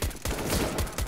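Gunfire in Counter-Strike: Global Offensive: a few close, heavy shots in quick succession within about a second, loud and dense.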